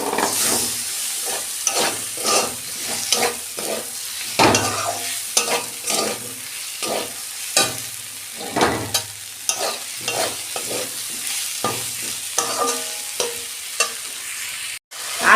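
Vegetables stir-fried in a pan with spices, a sizzling fry punctuated by repeated scraping stirs at an irregular rhythm, close and fairly loud.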